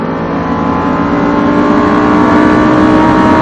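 A Lamborghini engine roars steadily on a race track, a loud, sustained accelerating drone that climbs slightly in pitch with dense harmonic layers and no pause.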